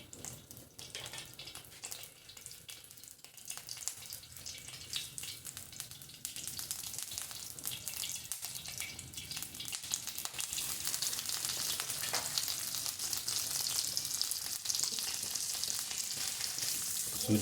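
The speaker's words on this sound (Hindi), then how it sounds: "घी डाल के हम पहले सूजी को भूनेंगे।" Semolina roasting in ghee in a pan on a kitchen stove, a steady close sizzle and hiss that grows louder and denser over the clip, with no talking.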